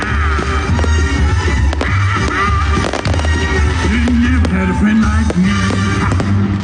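Continuous loud crackling and booming of a fireworks display in a town park, dense overlapping pops and bangs with a steady rumbling wash underneath.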